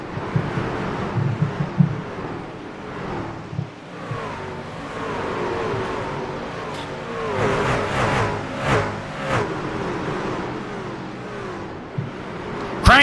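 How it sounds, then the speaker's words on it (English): Race truck engines roar around a speedway oval during a Stars and Stripes Truck Series race, a loud continuous drone that swells and fades as trucks pass, with wind buffeting the microphone. "Listen to the roars of the engines."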